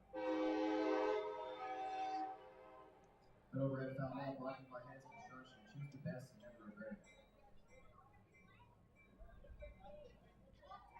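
A train passing Bosse Field ballpark in Evansville during an evening baseball game sounds a two-second horn blast, followed by a broadcaster talking over quiet crowd ambience.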